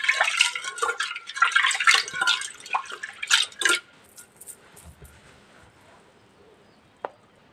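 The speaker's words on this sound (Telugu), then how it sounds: "2 సార్లు అయితే కడిగేసుకోవాలి ఇలా." One cup of lentils being washed by hand in water for a drumstick dal: close, busy swishing and splashing for about four seconds, then near quiet with a single small clink near the end.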